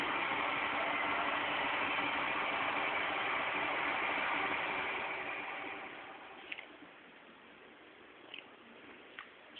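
A Newman motor replica on a 12V 5-watt solar panel whirs steadily, then winds down and grows fainter, leaving a few small clicks and taps as it slows.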